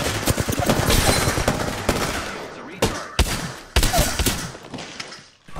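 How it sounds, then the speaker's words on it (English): Enemies fire on the player in a ranked match of the video game Apex Legends, with dense, loud bursts of automatic gunfire and a few sharp separate shots, close by and with little break. "The enemies are shooting at me."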